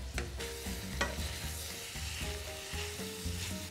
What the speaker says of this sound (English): we're going to add our egg noodles to just a pot of boiling water. And then just give them a stir